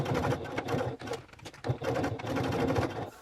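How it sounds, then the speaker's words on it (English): A sewing machine stitches across bag connectors in quick rhythmic bursts of mechanical rattling, broken by brief pauses, close up and moderately quiet. "we're going to the sewing machine and we're going to stitch across the 1-inch line on both connectors"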